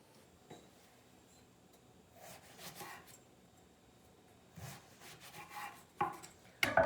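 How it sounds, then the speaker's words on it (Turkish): Quiet knife cuts through soft eggplant on a board, with scattered rubbing slices and a few sharper chops toward the end. "Patlıcanların tamamını doğrayacağız."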